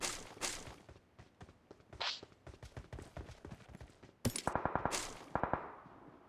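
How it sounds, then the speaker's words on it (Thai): Gunfire in a military shooter game crackles from afar as scattered single shots, then a tight rapid burst of automatic fire followed by a few more reports. "เนี่ยฝั่งนู้นยังยิงกันอยู่"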